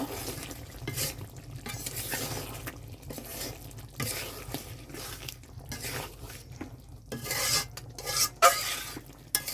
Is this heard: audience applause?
no